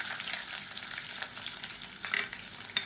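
Chopped garlic fries in oil alongside tempered spices for a curry-leaf garlic kuzhambu, a continuous crackling sizzle heard close with faint stirring, no voices.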